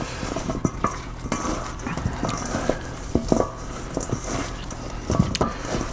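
Ingredients being mixed in a bowl, with irregular close clacks and taps of a utensil against the bowl over a soft, steady background.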